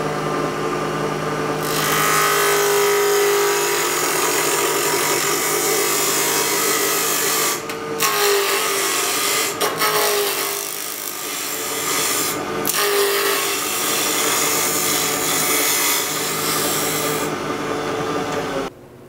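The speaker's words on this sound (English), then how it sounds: "I've got the tool 90 degrees to the work. And I'm just going to peel that wood away." A skew chisel peels a cut on spindle wood turning fast on a lathe, giving a loud, continuous close-up shaving hiss with a few brief breaks where the tool lifts off the work.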